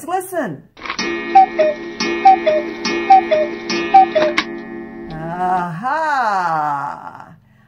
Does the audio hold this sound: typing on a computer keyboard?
no